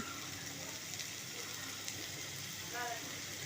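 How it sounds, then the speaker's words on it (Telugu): Green beans and softened onion frying in oil in a pan, with turmeric stirred in, give a steady, even sizzle that holds faint and constant throughout with no voices. "ఉల్లిపాయ చక్కగా మగ్గిపోయింది అలాగే బీన్స్ కూడా నూనెలో బాగా ఫ్రై అయ్యాయి"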